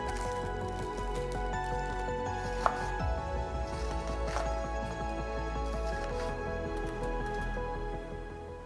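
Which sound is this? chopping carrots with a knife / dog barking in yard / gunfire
chopping carrots with a knife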